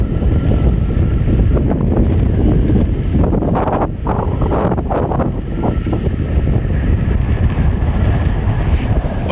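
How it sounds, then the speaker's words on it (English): Strong wind roars across the microphone on the Biloxi, Mississippi coast ahead of a hurricane, a loud constant buffeting rush with no break and no voices. "you can really tell that the wind's really blowing in"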